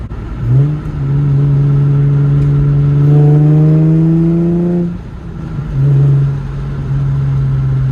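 An Infiniti G35 engine pulls hard through a long, rising rev under acceleration, drops off briefly, then climbs again; loud and close with no talk.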